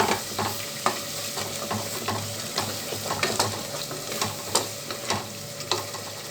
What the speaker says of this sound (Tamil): அதனால் வந்து தக்காளி இதில் சேர்த்துக்கிட்டு கொஞ்சம் நேரம் வதங்கட்டும்.